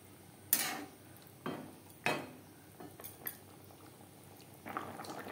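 Egg and potato curry gravy simmering in a pan, with bubbling under a few sharp metal clinks and scrapes of a utensil against the pan, close and fairly loud.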